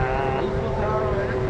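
Meepo V3 electric skateboard motor running at full throttle, a steady loud whine with strong low rumble and wind buffeting, continuous throughout.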